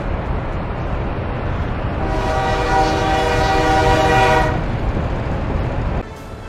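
A loud, sustained train horn blares for a couple of seconds over steady rumbling rail noise in the video game Workers & Resources: Soviet Republic, then fades, and the sound stops abruptly.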